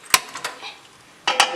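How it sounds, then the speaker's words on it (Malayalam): A cooking pot set down on a stove while making Malabar mutton curry: two sharp metallic clanks, one near the start and one near the end, with a few lighter knocks between, close and fairly loud with no talk. "പാത്രം വെക്കണം"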